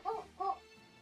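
Two quick, faint barks from a pet dog, a short pause between them, heard at a distance in a quiet room.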